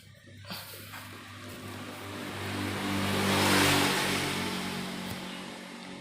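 A secondhand air compressor's motor runs steadily with a low mechanical hum that swells louder toward the middle and then eases slightly, close and continuous throughout.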